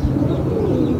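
A Sialkoti pigeon cooing close by in a short, low, steady burst, heard alone without voices.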